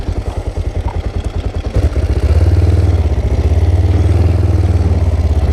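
Kawasaki Ninja 500 GPZ500S motorcycle engine, close up, with a rhythmic pulsing idle that swells into a steady, louder drone as the bike pulls away and rides off.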